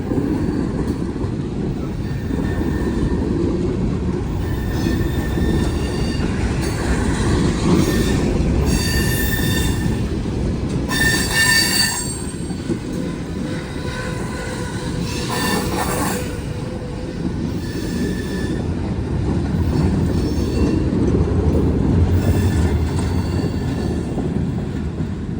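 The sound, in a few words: Norfolk Southern freight train passing, wheels squealing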